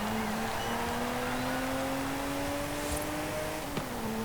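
The 1962 Ferrari 250 GT Lusso's engine in Forza Horizon 5 holds a loud, steady high-revving drone whose pitch climbs gradually, with a brief shift-like dip near the end.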